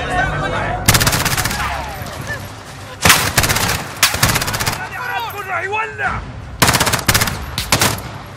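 Bursts of rapid automatic gunfire crackle loudly in several volleys in Call of Duty: Modern Warfare, with shouted voices and game sound effects between them.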